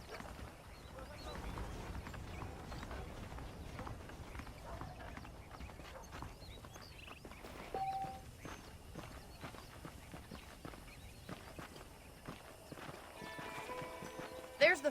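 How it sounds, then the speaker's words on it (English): Horse hooves clip-clop at a walking pace in the Red Dead Redemption video game, a quiet irregular clatter under a man's speech, with a brief whinny. "The horses are saddled up over here."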